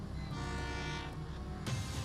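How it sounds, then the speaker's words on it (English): A train approaches a station as a steady rumble with a sustained horn-like tone, then a sudden rush of broadband noise near the end. "here comes the train"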